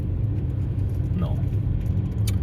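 A car driving on the road on a long trip home, a steady low engine and road rumble throughout, with a faint passing whoosh in the middle and a brief high squeak near the end.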